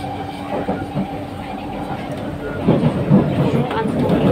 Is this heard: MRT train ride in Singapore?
yes